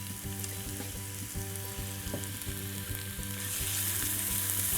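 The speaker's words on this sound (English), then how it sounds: "in the oil I'm going to saute some vegetables. I've got a grated carrot, and I've also got a couple of spring onions that I've chopped." Grated carrot and chopped spring onions frying in oil, a steady close sizzle with a regular tapping of the pan or spoon underneath. The hiss grows brighter toward the end, and nobody speaks.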